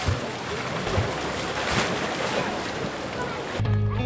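Ocean waves surge and rumble in a rocky inlet at Otter Point, Acadia National Park, Maine, with a steady rushing wash, fairly loud, with wind buffeting the microphone, before cutting to a different scene.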